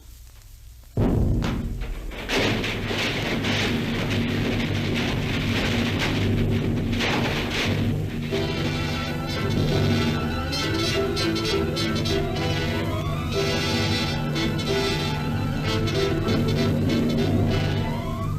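A staged bomb blast in a 1930s radio crime drama: a sudden loud boom about a second in, followed by a sustained roaring rumble with crashing debris and ringing, dense layered noise that carries on steadily to the end.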